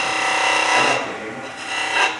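A skew chisel cuts a V groove into a wooden spindle turning on a lathe, producing a close, continuous scraping rasp that swells and eases in two short pushes.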